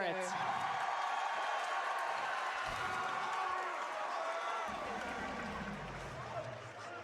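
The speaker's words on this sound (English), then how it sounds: "The crowd getting into it." Crowd at a LAN esports watch party cheering and roaring in a steady, dense wash of noise throughout, with voices mixed in the crowd.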